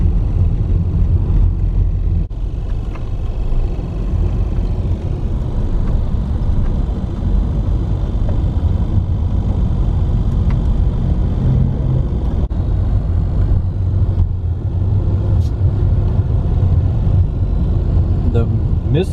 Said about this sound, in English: Traffic is starting to move, which is a good thing.